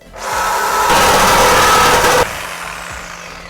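A power tool cuts through a car's muffler pipe, a loud, harsh, grinding whine that starts abruptly, intensifies as the blade bites into the metal, then cuts off and leaves a fading hum.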